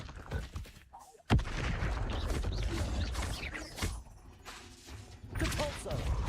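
Spell blasts from Hogwarts Legacy gameplay, a fiery Confringo and a Bombarda: a sudden sharp bang, then a dense stretch of crashing, crackling impacts and rumbling that ends in a second burst of noise.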